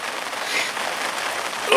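Steady rain falls at a fishing swim, a dense, even hiss of drops on surfaces, close and continuous without talk.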